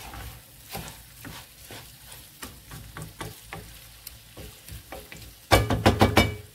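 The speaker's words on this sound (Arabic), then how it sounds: "نحمرو مزيان مع القرعه" Squash frying in a pot with fish broth ingredients nearby, a spoon scraping and stirring in quiet repeated strokes, then a louder burst of sizzling and clattering stirs at the end.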